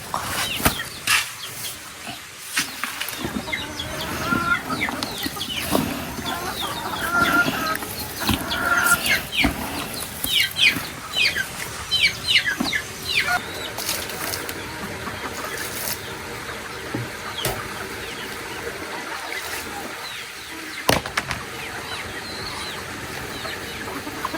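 Chickens cluck and squabble close by in a busy yard at feeding time, with scattered bird calls and steady outdoor background noise throughout.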